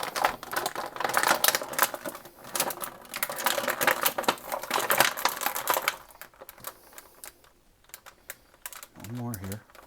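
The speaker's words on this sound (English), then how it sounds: "And let's see if I cut enough of these restraints." Clippers snipping through the packaging restraints of a McFarlane Toys action figure, a dense run of close clicks and cuts that thins out toward the end, with someone talking at the close.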